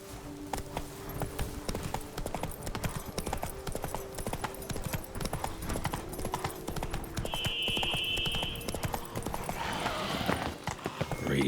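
Roach, a horse in The Witcher 3, gallops in a steady rapid clip-clop of hooves, close and continuous, over a low ambient game soundscape with a brief higher tone partway through.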